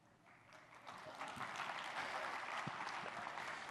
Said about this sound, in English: No, really, you shouldn't applaud for that.